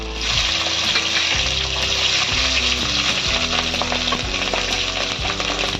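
Five-spice, ginger paste, green chillies and cut bottle gourd sauté in hot oil, giving a loud, steady sizzle with repeated scraping stirs throughout and no voices.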